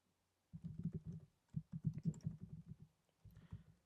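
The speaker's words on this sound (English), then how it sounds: "And we're going to do some typing." Typing on a computer keyboard in bursts of quick, close key clicks separated by short pauses, with no speech.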